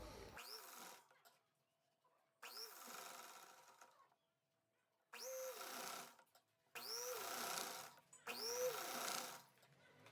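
A sewing machine stitches a sleeve for a Rajputi poshak kanchali in five separate bursts, each a whirring run of a second or two with quiet pauses between, heard up close.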